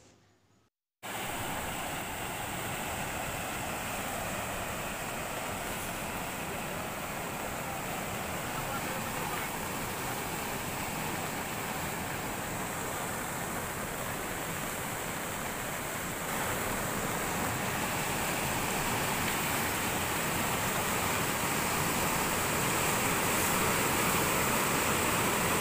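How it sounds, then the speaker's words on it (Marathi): Kasalganga stream in flood in a rural village, surging over a submerged Kolhapur-type weir, a loud continuous roar and rush of water that begins abruptly after a brief quiet moment and holds steady throughout. "गारडी गावामधील कासाळगंगा ओढ्याला पूर परिस्थिती निर्माण झाली आहे"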